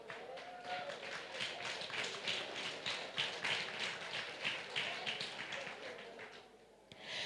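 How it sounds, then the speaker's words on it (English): Audience at a children's early childhood graduation ceremony breaks into sustained clapping, a dense patter of many hands that swells and then tapers off to near silence at the end. "let's take a moment to give them a big round of applause"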